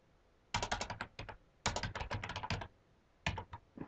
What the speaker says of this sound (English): hopefully I type it right